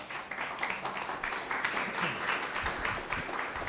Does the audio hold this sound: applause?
yes